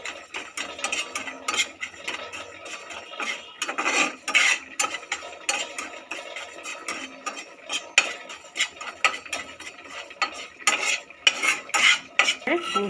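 Whole spices dry roasting in a pan for shukto, with a busy, continuous rattle and scrape as a utensil stirs and tosses them against the metal, close and fairly loud, with no talking.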